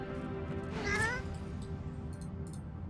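A skeleton cat in the game Divinity: Original Sin 2 gives a single short meow near the middle, fairly faint over a steady low background hum.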